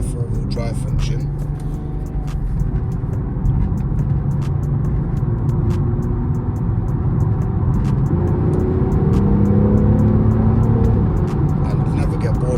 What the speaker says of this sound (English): the diesel just does not sound as nice as the petrols.